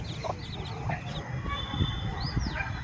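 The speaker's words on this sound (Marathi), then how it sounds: "ह्या कोंबड्या झाडाखाली आल्या होत्या" Hens cluck in short bursts under a tree in a farm field after rain, with a few higher chirps and steady outdoor background noise.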